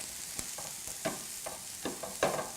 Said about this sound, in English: I think I have the pan a little hot, or our onions are gonna be caramelized here in a minute.